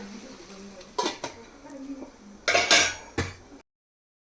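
A metal lid settles onto a pot of gongura chicken, with a few sharp clinks and clatters between quieter stretches of soft kitchen noise, ending in sudden silence.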